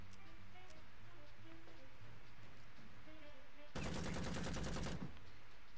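A rapid burst of gunfire in the video game Empire of Sin, loud and dense for about a second, rising over a quieter backdrop of game sounds and faint music.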